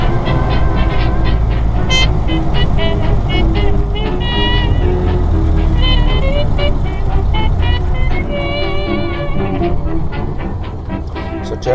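A 1931 Ford Model A driving on the road, a loud rumbling engine and road roar heard from on board, overlaid with whistle-like tones, with people talking over it throughout.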